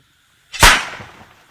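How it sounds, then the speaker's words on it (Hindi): A single sharp, loud homemade gunpowder blast, set off to scare wolves, after a moment of silence, booming briefly and then decaying into a rumbling tail. "ये है वो धमाका जिसके डर से भेड़िए यहां से भाग जाएं"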